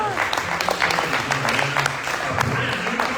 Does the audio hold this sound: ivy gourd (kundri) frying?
no